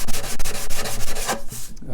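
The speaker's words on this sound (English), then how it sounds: "notice it quicker when I'm sanding by hand" Rapid back-and-forth rasping of sandpaper rubbed by hand over wood with a paua shell purfling inlay, close and steady, fading out at the end.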